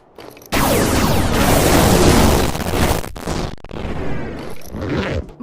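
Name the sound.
firework exploding in video game Animal Company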